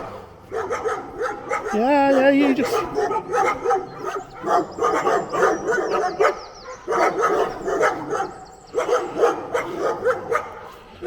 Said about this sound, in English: letting these dogs fucking bark their heads off over there